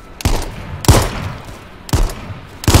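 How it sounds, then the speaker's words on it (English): Gunfire in the H1Z1 battle royale video game: four sharp, loud gunshots spaced about a second apart, each with a brief decaying tail, and no talking. "Someone's shooting me."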